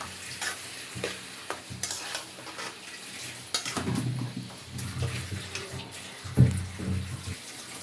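Chicken liver frying in a spice paste, a broad steady sizzle under repeated scraping stirs, with a louder clatter near the end and no talk.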